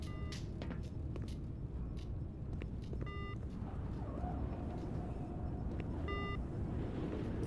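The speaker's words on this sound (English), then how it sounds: "It's beeping?" Short electronic alarm beeps in Black Mesa's Lambda Core sound in two brief bursts of stacked tones about three seconds apart, over a loud rumbling, noisy ambient background with scattered clicks.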